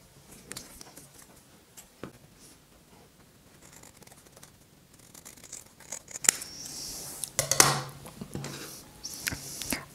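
Scissors cut a paper mask template with scattered soft snips and rustles, growing busier and louder near the end, close and quiet with no talking.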